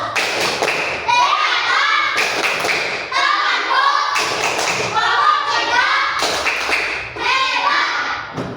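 A classroom of children claps together in a rhythmic applause pattern, steady repeated group claps in bursts with a short break between them, loud and close, with children's voices mixed in.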